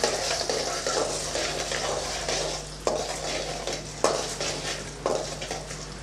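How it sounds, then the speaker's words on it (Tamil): Garlic fries in hot oil with a soft steady sizzle, broken by a few sharp scrapes and taps of a spoon stirring the pan. "சேர்த்து நல்லா வதக்கி விட்டுறலாம்"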